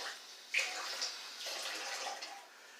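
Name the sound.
adding a little water to cooking basmati rice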